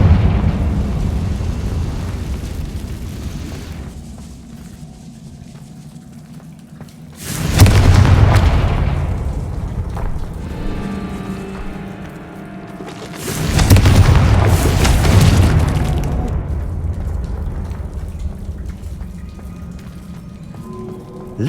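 Two loud booming fire-spell blasts from the Confringo spell in the Hogwarts Legacy video game, each a sudden broadband burst lasting a couple of seconds and separated by a stretch of low ambient rumble.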